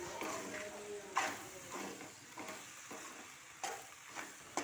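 Masala pasta frying in a pan, with a spatula scraping and stirring in several quiet, separate strokes over a low background sizzle.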